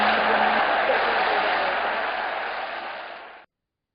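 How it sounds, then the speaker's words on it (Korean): Warm audience applause for a lecturer at the close of a talk, a thick, sustained wash of clapping from many hands that holds steady and then gradually thins out before cutting off. "박수만 뜨거운 박수로 보내드리도록 하겠습니다"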